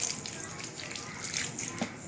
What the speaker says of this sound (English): The second thing is cold water.